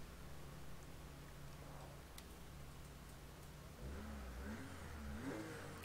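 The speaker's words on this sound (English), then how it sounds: "I quite like the sound of this engine, especially about where it is now." A car engine in the racing game Project Cars 2 holds a steady drone, then revs up with a rising, surging pitch, loud and close with no talk over it.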